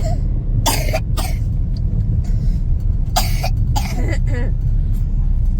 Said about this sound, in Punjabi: ਆ ਦੇਖੋ ਇਹਨੂੰ ਖਾਂਸੀ ਲੱਗੀ ਹੋਈ